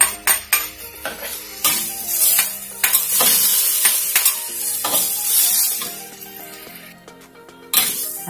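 Jicama stir-fries with dried shrimp and oyster sauce in a hot pan, a bright sizzle broken by repeated clinks and scrapes of a spatula being stirred through it.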